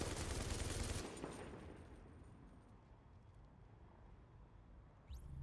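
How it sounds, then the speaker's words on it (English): Sustained automatic fire from an L86 LSW light machine gun in The Division, a dense loud burst in the opening second that trails into echoing reverberation and distant rumble, with a faint sharp sound near the end. "machine gun, the military L86 LSW, which you also find early in the game"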